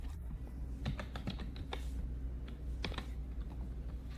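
Computer keyboard typing during work in Rhinoceros 3D modeling software: irregular bursts of close, crisp key clicks spread over a few seconds, with no voice.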